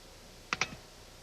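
Two sharp keystrokes on a 1983 office computer keyboard, closely spaced clicks followed by a softer tap, quiet room around them and no speech.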